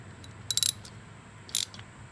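Two short bursts of ratcheting clicks come from a 10mm socket ratchet tightening a bolt on a CT110 postie motorbike during cam chain work, close and fairly quiet, with a brief pause between them.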